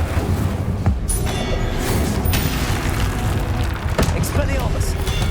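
An Incendio fire spell blasts in Hogwarts Legacy amid a dense, continuous barrage of booming impacts and rumbling combat effects, with sharp bursts near the one-second and four-second marks.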